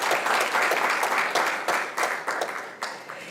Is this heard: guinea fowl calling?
no